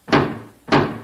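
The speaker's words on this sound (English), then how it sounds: "I can hear them pounding on the door." Two loud, heavy thuds about half a second apart, each a broad booming impact on a garage door with a short decay, isolated with no talk.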